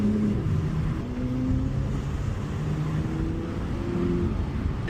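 A Porsche 911 accelerates smoothly through Monaco streets, its engine holding a steady, rising drone with gentle, linear pitch climbs and no sharp revs, heard from inside the car at moderate, constant loudness.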